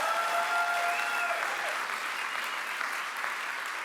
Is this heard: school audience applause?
yes